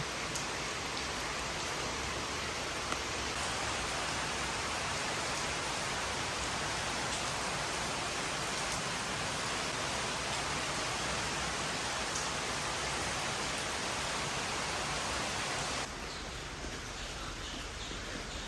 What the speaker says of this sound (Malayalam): നല്ല അടിപൊളിയായിട്ട് മഴ പെയ്തുകൊണ്ടിരിക്കുകയാണ്